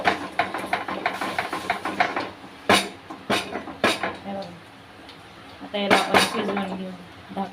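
A lid is set on a pot of thin besan batter cooking on the stove, giving several sharp metallic clanks close by, with a voice talking between them.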